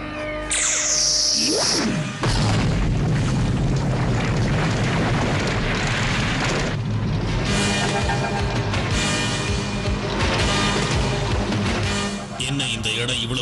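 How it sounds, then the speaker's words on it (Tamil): A cartoon volcano erupts in a 1983 He-Man and the Masters of the Universe episode. It gives a loud, sustained roaring rumble with whooshing effects, and speech is mixed in throughout. "அந்த எரிமலை வெடிச்சு சிதறிக்கிட்டு இருக்கு"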